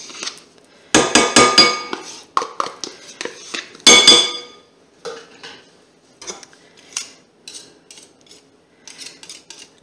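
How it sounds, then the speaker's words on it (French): A spoon clinks and scrapes against a bowl while mascarpone is added to a speculoos tiramisu mixture, with several sharp metallic knocks early on followed by lighter, scattered taps, close and loud with no talking. "Nous allons y ajouter notre"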